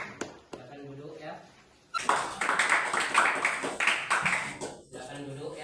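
A classroom audience applauds a student group's presentation in a dense burst of clapping lasting a few seconds, with a voice talking before and after.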